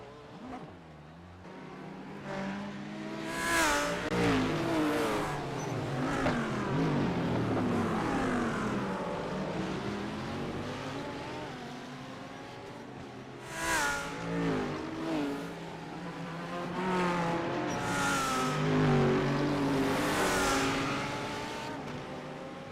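A GT3 race car's engine revs and surges through gear changes in a sim-racing video game of a sprint round at Long Beach, loud and continuous with rising and falling pitch and several sharp bursts.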